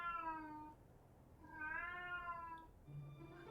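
A female cat keeps meowing for attention, a sustained cry, a pause, then another long wavering meow and the start of a third, fairly close and quiet with no speech.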